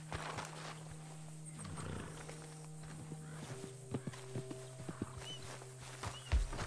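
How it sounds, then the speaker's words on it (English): Horse in Red Dead Redemption 2, hooves clopping and snorting over an open-world game ambience with a steady low hum, intermittent louder hoof and movement sounds near the end. "Damn horse."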